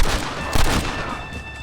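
Gunfire in the Western video game Red Dead Redemption, a quick volley of sharp shots with one heavier burst in the middle, loud and close, with no voices.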